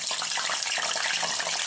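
Wet brinjal pieces, just lifted from soaking water, sputter and crackle in about five tablespoons of hot oil in a pan, a dense, continuous sizzle up close with no talking.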